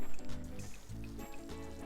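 Smothered chicken in gravy, fresh from the oven, bubbling softly in its pan with low, steady gurgles and small pops, fairly faint and close, with no voices.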